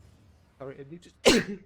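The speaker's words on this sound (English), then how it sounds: "That was a sneeze." A single sharp sneeze bursts out close and loud right after a few spoken words, with more speech trailing after it.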